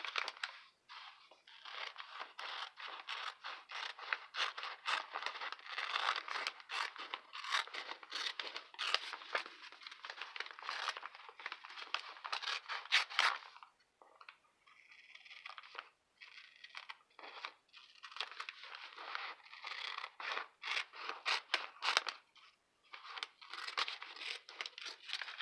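Scissors trimming a DIY paper washi tape sticker, heard up close and faint: a long run of dense, crisp snipping and paper crinkling, a brief pause, then more cutting and rustling.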